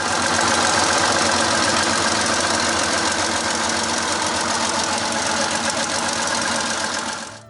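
A GM 6046 twin Detroit Diesel 6-71 tank powerplant, two engines bolted side by side, runs with a loud, steady, rough clattering drone that holds throughout before easing off at the end.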